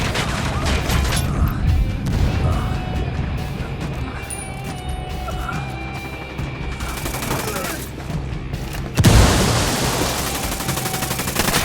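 A fragmentation grenade detonates amid sustained automatic gunfire in a Ghost Recon Wildlands firefight, with a loud burst near the end standing out over continuous dense shooting and battle noise.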